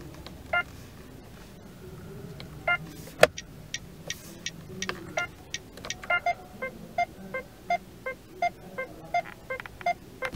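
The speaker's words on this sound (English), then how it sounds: "You can change the turn signal indicator sound." Electronic turn signal indicator in a 2023 Mitsubishi Xpander Cross, a steady series of faint, sharp ticks repeating at an even rhythm over a quiet cabin hum.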